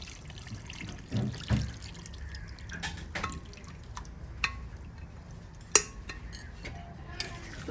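Water pours into a pressure cooker of spiced mutton for kosha, coming through as faint, scattered drips and small splashes with a few soft clinks of metal cookware, fairly quiet and without talk.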